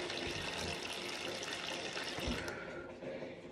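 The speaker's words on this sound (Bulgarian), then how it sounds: "Да я пусна гореща вода." Hot water gushes steadily from a tap into a sink or tub for a bath, a close, continuous splashing rush that eases slightly toward the end.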